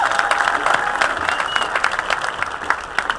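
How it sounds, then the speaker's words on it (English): A crowd at a Tea Party rally in St. Louis claps steadily, a dense sustained patter of applause filling the hall, fairly loud and continuous for a few seconds. "you can clap for yourself"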